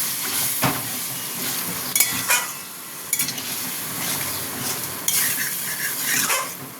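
Prawn curry spice masala in a pan with a little water added, cooking with a steady soft bubbling sizzle and occasional clinks of a utensil scraping and stirring against the pan, fairly close, no talking.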